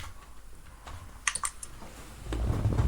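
A computer keyboard gives off a short, quiet burst of key clicks, faint and close, before a louder low rumble rises at the end.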